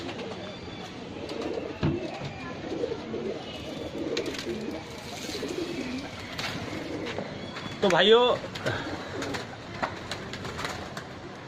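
Soft pigeon cooing in the background beneath someone talking, with a brief louder burst of calls near the end.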